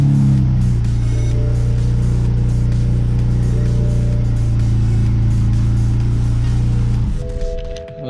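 A BMW 335i E92 engine runs at a steady, loud idle after a low-pressure fuel pump replacement, then the drone drops away near the end.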